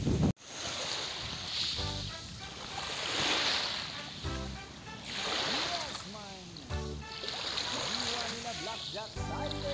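Lake waves lap steadily at Talisay, Batangas, a broad washing surge with wind, while men chat nearby over the water sound.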